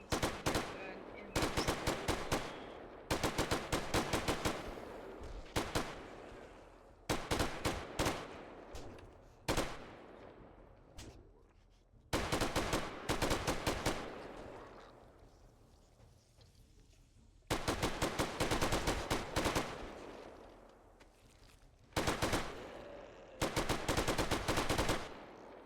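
Light machine gun in the game 7 Days to Die firing in long rapid-fire bursts separated by short pauses, loud and close, with faint talk in the gaps.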